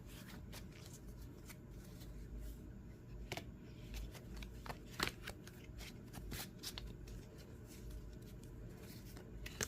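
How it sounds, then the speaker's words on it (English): Tarot cards being shuffled close up, a steady papery riffling with soft flicks and taps, quiet and continuous with no talking. "Let me shuffle."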